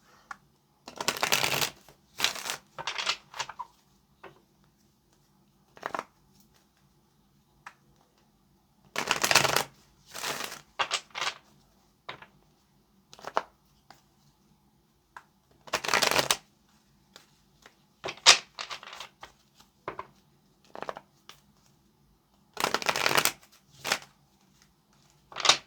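Tarot cards are shuffled in several separate bursts of rapid riffling and flicking, with quiet pauses between each shuffle.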